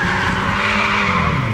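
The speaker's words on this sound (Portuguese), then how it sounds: "Mas faz o zerinho pra nós ver, faz o zerinho." Car tires squeal continuously while a car, apparently a Corvette or Porsche, spins donuts, with the screech loud and sustained beneath the rumble of the engine.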